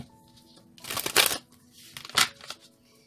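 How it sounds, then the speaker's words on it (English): Cards are shuffled nearby in two quick bursts, the riffle's rapid flutter followed a moment later by a shorter second shuffle, with light handling noise around them. "One more shuffle, they request."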